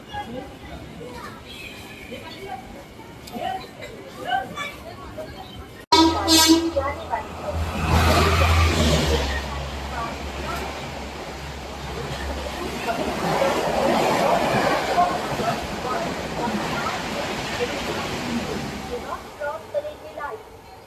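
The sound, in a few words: Mumbai suburban local train arriving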